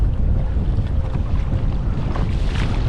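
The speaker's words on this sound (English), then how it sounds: "The wind, I expected it to die down." Strong, gusty wind buffets the microphone on choppy open water during kayak fishing on Plymouth Sound, a loud continuous low roar with no voices.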